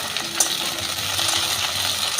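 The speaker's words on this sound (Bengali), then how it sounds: "এই ঢ্যাঁড়সটা ভেজে নেব" Soft, steady sizzling of okra frying in hot oil, with faint crackles and a low background hum.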